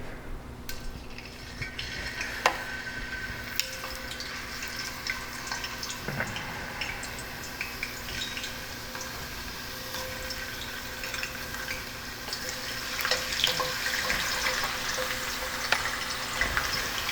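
Potatoes that were soaked in salt water sizzle steadily in shallot oil over medium heat, a soft, continuous crackle with faint clinks and stirring, with no talking.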